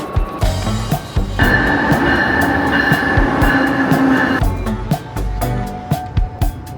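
A train rumbles along the rails with steady rhythmic clacks, loud and close, a sustained tone swelling in the middle before the clatter returns.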